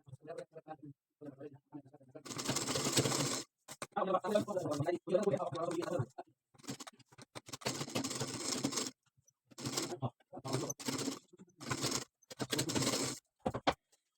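A sewing machine stitching blouse fabric runs in several bursts of steady mechanical whirring, each lasting a second or two and separated by pauses, with brief speech between runs.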